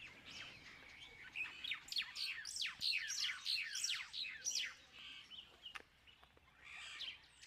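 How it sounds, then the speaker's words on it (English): A Burchell's starling calls with another small bird, giving faint, rapid chattering and clicking chirps in quick rattling bursts, with a few sharp ticks near the end, somewhat distant and quiet. "Sounds like a noisy Burchell starling with another small bird taking dictation."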